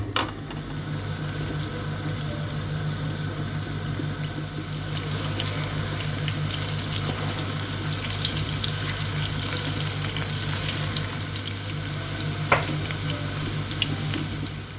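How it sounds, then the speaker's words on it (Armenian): Cauliflower coated in a crisp batter frying in oil in a pan, a steady close sizzle with soft crackles and a faint low hum underneath, continuing without talk. "Լցնում ենք ձեթ ու սկսենք տապակել"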